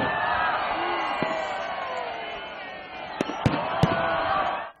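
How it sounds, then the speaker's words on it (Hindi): A steady crowd din fills the air at a spring festival in Lahore while several sharp firework bangs crack out near the end, with a few softer pops earlier. "फिजा में रंगारंग गुब्बारे छोड़े गए और खूब आतिशबाजी की गई।"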